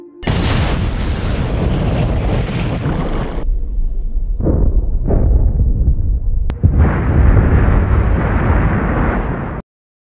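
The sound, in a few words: bombs exploding in a film scene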